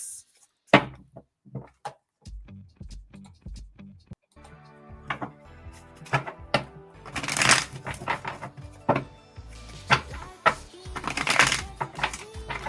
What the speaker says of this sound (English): Quite a short shuffle.